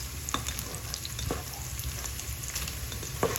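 Bacon pieces frying in a pan, a close, even crackling sizzle with a few soft scrapes as the pieces are moved around.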